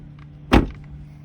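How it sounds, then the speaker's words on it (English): A single solid slam of a 2018 GMC Canyon pickup truck door, one heavy short thump standing out over a low steady hum in the background. "That sounds like a door that's really solid."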